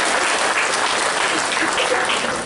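Loud applause at a regional committee felicitation ceremony in Andheri-Bandra, a dense, even wash of many hands clapping close by throughout the short stretch.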